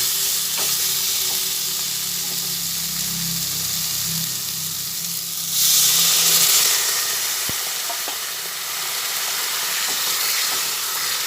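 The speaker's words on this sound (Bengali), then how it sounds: "এভাবে আপনারা উচ্ছে ভেজে নেবেন দেখবেন খেতে ভীষণই ভালো লাগবে আমি এর মধ্যে সামান্য পরিমাণে একটু জল দেব" Bitter gourd fries in a pan with a continuous close sizzle and hiss, a brief louder surge of steam midway and a few light clinks, no voices.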